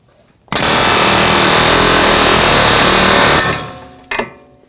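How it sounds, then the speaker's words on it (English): Hammering on a seized front strut knuckle of a Volvo S60 produces a loud, continuous, rapid metallic rattle lasting about three seconds, then cuts off, followed by one short final burst. "we're going to just hammer away"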